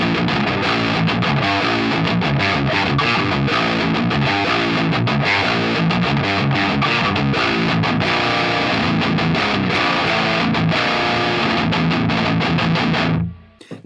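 Distorted electric guitar played through an Ampero II Stomp into a real speaker cabinet, loud and dense with continuous driven chords and riffs for the whole stretch, cutting off abruptly at the end.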